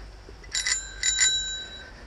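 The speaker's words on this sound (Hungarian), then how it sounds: "Csengőt hangolni kell." A bicycle bell on a granny-style bike rings twice in quick succession on a snowy footpath, bright and close, each ring a short metallic trill.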